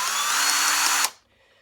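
A Yuhtech drill-powered riveter whirs loudly and steadily for about a second while pulling a rivet in one stroke, then cuts off abruptly into quiet.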